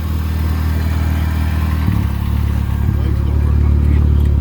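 A 1989 Shelby Daytona engine, running on 14-year-old gas, idles close by with a steady low rumble and a slight bump in revs partway through.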